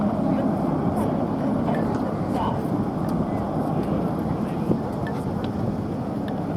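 Red Arrows display jets fly in formation at an air show, a steady distant engine roar and rumble heard beneath a commentator's running talk over the loudspeaker.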